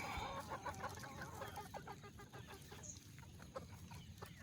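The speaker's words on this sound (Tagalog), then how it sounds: "Duke Halsey Gray mga idol. White kelso." White Kelso gamefowl roosters cluck and crow at a game farm range area in Pangasinan, several birds calling at moderate distance over a steady outdoor background.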